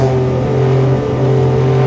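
A Porsche 962 Le Mans race car with long gearing pulls hard out of a right-hander in second gear, its engine a loud, steady, close-up drone with a strong low hum held through the whole stretch.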